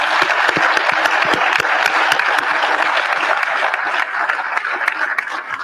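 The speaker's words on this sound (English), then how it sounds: "please give him a round of applause" An audience at a sheriff's quarterly briefing claps in sustained, dense applause that holds steady for several seconds before easing slightly, filling the room with no voices on top.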